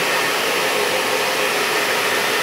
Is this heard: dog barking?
no